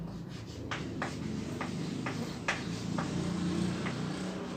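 A teacher writing on a board in a classroom, a run of short scratchy marker or chalk strokes at an uneven rhythm, close and fairly faint over a low room hum.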